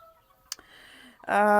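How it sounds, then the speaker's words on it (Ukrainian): A rooster crows loudly and close at the end, after a quieter stretch with a brief sharp knock and faint background sounds, on a poultry farm with naked-neck and Red Spanish chickens. "Так, залишились в мене самі півні."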